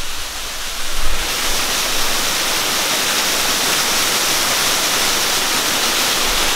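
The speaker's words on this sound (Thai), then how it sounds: "น้ำตกก็สวยละ" Waterfall on a mountain trail, a steady dense roar of falling water that swells after the first second and then holds loud and constant, close by, with no voices.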